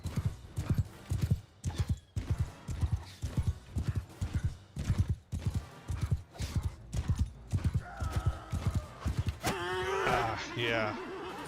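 Horse hooves clip-clop in a fast, steady galloping rhythm in Mount and Blade II: Bannerlord, close and loud, followed near the end by a sharp, shrill whinny.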